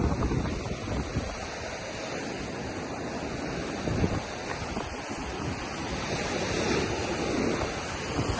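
Forceful ocean waves break steadily on Auroville beach in Pondicherry, a continuous loud roar of surf with wind buffeting the microphone and swells rising and falling throughout.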